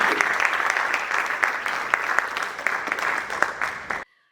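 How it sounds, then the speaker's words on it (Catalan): An audience at a panel talk applauds the arriving speakers with a thick, even round of clapping for about four seconds before it cuts off abruptly into silence. "un fort aplaudiment per ells"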